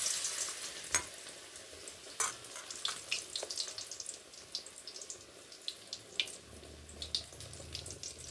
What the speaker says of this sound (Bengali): বেগুনি 3টে ভাজা হয়ে গেছে, আর 3টে আছে, এই 3টেও আমি ভেজে নেব